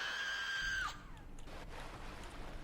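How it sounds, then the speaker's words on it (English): A high, sustained scream in the video game Bioshock, loud for nearly a second before breaking off abruptly and giving way to quieter ambient noise. "Who's screaming?"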